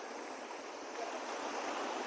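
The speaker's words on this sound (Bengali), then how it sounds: "ঝর্ণার কি আওয়াজ দেখো" A waterfall in the Arlong Kundu hills of Assam pours down in a steady, loud broadband rush of falling water. The roar stays continuous and close, with no voices over it.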